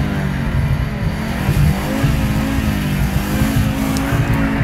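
A race car launches from a standstill, the engine droning loud and steady with a rising tone as it pulls away, close by and with no talking.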